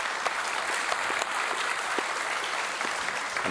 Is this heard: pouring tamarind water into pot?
no